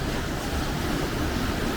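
Ocean surf rolls onto the beach near Poipu and Lawa'i Beach on Kaua'i, Hawaii, a continuous washing roar with wind mixed in and no voices.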